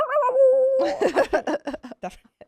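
A person vocally imitates a baby beagle howling, with a drawn-out wavering howl followed by a run of short choppy yelps, close and alone.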